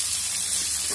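Drumstick and potato pieces sizzle steadily in hot oil over a medium flame, a dense, even frying hiss that stays close and constant throughout.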